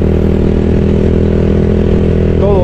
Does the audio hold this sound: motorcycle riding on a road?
yes